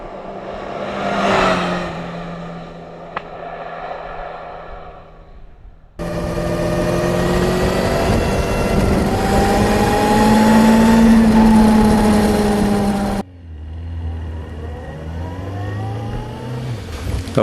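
A Honda sports motorcycle engine revs in three distinct stretches, the pitch climbing and falling with each blip of the throttle, loud and close, with the middle run the longest and most sustained.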